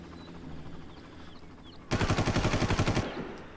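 A rapid automatic burst of about a second rattles out in the shooter game Far Cry, loud and close with evenly spaced shots, after a quieter stretch of game ambience.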